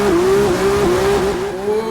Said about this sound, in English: let's rev it up and get going